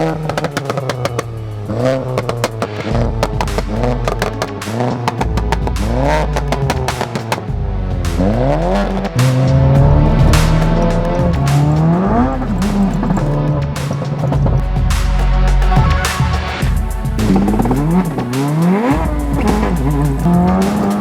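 A tuned stage 3 VW Polo GTI driven hard on the road, its engine revving up repeatedly through rising gear pulls with sharp shifts and loud, close exhaust roar, with no talk over it.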